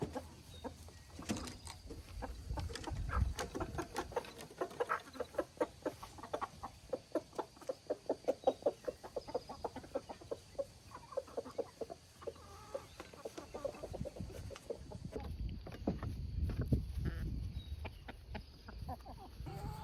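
Chickens being fed cooked chicken cluck and murmur close by as a rapid run of pecking taps patters throughout, with a few louder squawks near the end.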